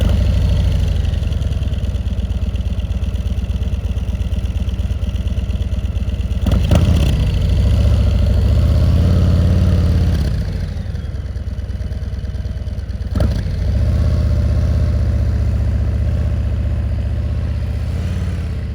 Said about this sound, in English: As soon as you see this motorcycle start to move